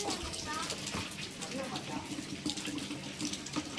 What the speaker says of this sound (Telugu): వర్షం పడతా ఉంది